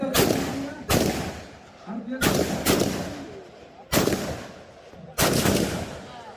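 Gunfire at a police shooting competition for journalists: five loud, sharp reports spaced about a second apart, each followed by a short echoing tail, with faint voices between shots.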